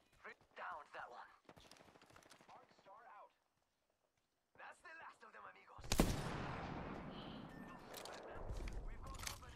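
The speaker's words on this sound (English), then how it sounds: "They're shooting at me?" Video game gunfire arrives as a loud, sustained burst of shots in the second half, following a stretch of talk and a short pause. A voice carries on speaking over the shooting.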